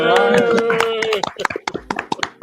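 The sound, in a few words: clapping for Mirage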